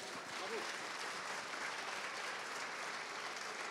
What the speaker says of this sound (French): ça peut mériter une salve d'applaudissements